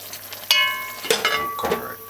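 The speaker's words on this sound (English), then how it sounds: "Stir it now" Bok choy and chicken stirred in a frying pan, with a few clinks of a utensil against the pan over a soft sizzle; short and close, without speech.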